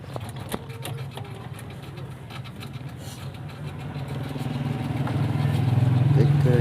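A Toyota Corolla diesel engine runs at a steady idle with a low, even hum, its revs rising toward the end. Faint clicks and handling noises sit over it, with no talk.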